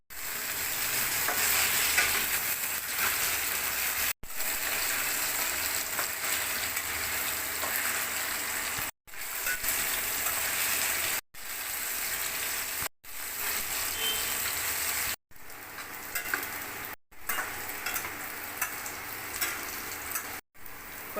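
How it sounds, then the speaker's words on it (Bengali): Pieces of taro, boiled with salt and turmeric, fry in hot oil. A continuous close sizzle fills the pan, broken into several segments by short cuts. "এবার কচুগুলোকে ভালো করে নুন হলুদ দিয়ে সিদ্ধ করে নিয়েছি, ভেজে নেব।"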